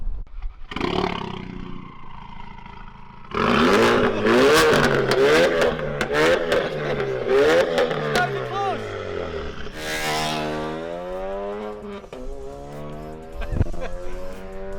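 A car engine revs hard and roars loudly through several rising and falling pulls, close and dominant, with a voice briefly heard among the engine noise.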